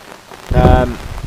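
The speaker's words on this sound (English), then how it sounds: "Wait for a little break in the rain, or I don't think it's going to come." Heavy rain drums steadily on a surface beside a carp-fishing swim in France, a loud burst swelling in the middle of a short stretch of downpour.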